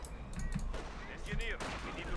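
Company of Heroes 2 battle sounds: bursts of gunfire and a grenade explosion, with a voice talking alongside.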